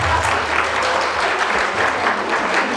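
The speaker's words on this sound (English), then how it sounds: "Clap hands for my brother." An audience at an indoor gathering claps for a man, producing brief, dense, evenly loud applause with no speech over it.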